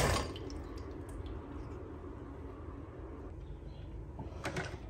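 Cold filtered water pours steadily into a pot of drained chickpeas for several seconds, a continuous rushing splash close by, ending with a light clink.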